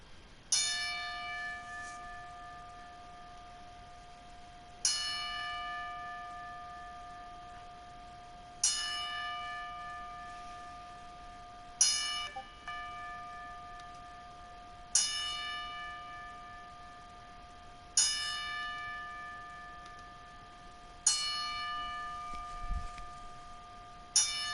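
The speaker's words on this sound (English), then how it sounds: "with the Pro Wrestling Ring Bell 10 Bell Salute" Ten evenly spaced strikes of a pro wrestling ring bell sounding a ten-bell salute at an arena event, each bright metallic clang ringing out and decaying for about three seconds before the next, alone with no talk.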